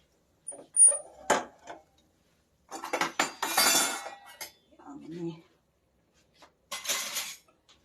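Metal cookware and utensils clink and clatter in a home kitchen while gujiya are being prepared, several sharp knocks and a longer rattling burst, with someone talking in between.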